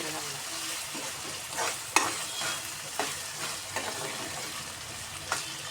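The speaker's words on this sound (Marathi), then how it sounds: "टॉमॅटो घातल्यानंतर ना छान शिजलाय टॉमॅटो असं त्याला चांगलं मिक्स करून घ्या" Tomatoes stirred and cooking in a pan for a Marathi-style soybean curry, with a steady low sizzle and several scraping stir strokes at irregular intervals, close by and without speech.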